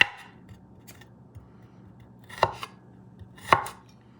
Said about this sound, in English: Cut the garlic thin.